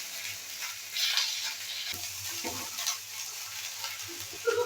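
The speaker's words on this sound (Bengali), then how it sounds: "আর এইরকমই অল্প অল্প তেল দিয়ে কম গ্যাসে আঁচের মধ্যে এই পিঠেটা বানানো হবে।" Round bottle gourd pitha cook in a little oil over a low gas flame, giving a soft, steady sizzle with a few light taps and scrapes, fairly quiet and close.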